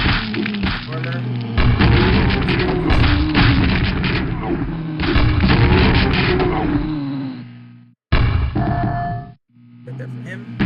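Grenade launcher blasts in the video game Liminal Core boom out as loud, rumbling explosions that roll into one another, then cut off abruptly and come back in short bursts.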